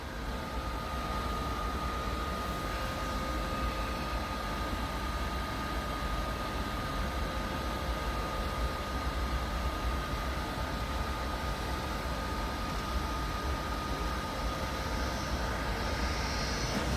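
A train pulls slowly into Munich main station as an empty stock movement, producing a steady, even rumble and mechanical hum with a faint high whine, continuous and unbroken.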